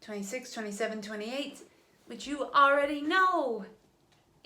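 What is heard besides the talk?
No distinct noise like a dog, phone or traffic.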